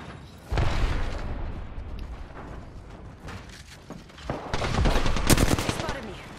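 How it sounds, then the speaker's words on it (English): Gunfire in the battle royale game Apex Legends, bursts of close automatic shots and heavy booms over a busy game soundscape, with an intense volley near the end and occasional talking. "They spotted me. I'm taking shots."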